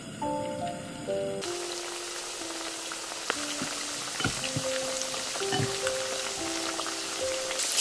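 Pork belly fries in hot oil with a quiet, steady crackling sizzle and scattered pops, over a soft melodic tune in the background.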